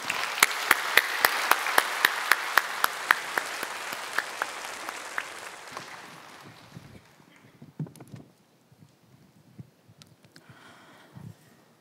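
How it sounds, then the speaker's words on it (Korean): A church congregation at an Easter service applauds to welcome a deaconess coming forward to give her testimony. Strong claps ring out over dense applause, then the clapping thins and fades after about six seconds into quiet shuffling. "우리 나오실 때 박수로 맞이해 주시기 바랍니다"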